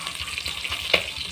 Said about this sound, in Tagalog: nagpiprito ako ng isda